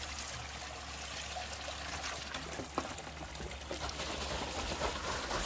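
Mountain spring water pours steadily from a water truck, a continuous close splashing rush that holds even throughout with a brief louder splash partway.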